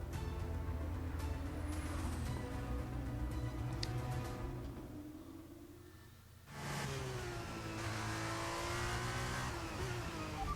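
A race car in the F1 23 video game on fresh tyres accelerates out of the pit lane, engine pitch sweeping up through gears, dipping briefly, then surging loudly again with a faint tire squeal, no voices.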